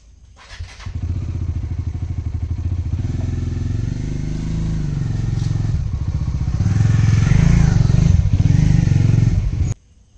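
A motorbike engine starts and idles close by, a steady throbbing rumble that rises slightly as the bike is moved into a garage, with a few clunks before it cuts off.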